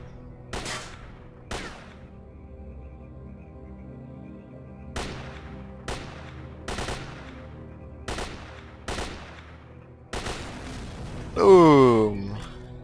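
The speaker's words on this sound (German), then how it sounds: "Auch in diesem Spiel explodieren die roten Fässer." Red barrels explode in the video game S.T.A.L.K.E.R.: Call of Pripyat, several sharp blasts going off one after another at uneven intervals, each with a short decaying tail, followed by a voice near the end.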